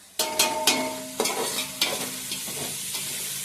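Chopped onion frying and being stirred in a pan for a Konkan-style jackfruit vegetable, with a steady sizzle broken by several sharp scraping stirs of the spoon, close up and with no talking.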